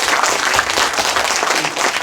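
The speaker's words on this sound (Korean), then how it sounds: "오랫동안 우리 만수무강하시라고 박수 한번 좀 부탁드리겠습니다." Audience applause at a civic coalition launch ceremony in Sangju, Korea: dense, steady clapping from a large crowd filling the hall, close and continuous.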